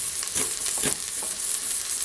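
Turkey curry sauté browning in a pan, a steady loud sizzle and crackle of frying with occasional stirring bursts, no voices.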